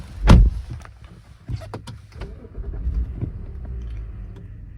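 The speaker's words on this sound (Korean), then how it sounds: "시동 한번 걸어보겠습니다" A BMW F10 528i with a warm straight-six turns over: a short, loud starter burst, then a quiet pause before a soft, smooth low idle hums steadily underneath, with no talking.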